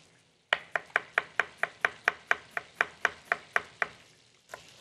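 A knife chops onion finely on a board in a home kitchen, about sixteen quick, evenly spaced, sharp cuts in a steady rhythm, close and clear with no talk.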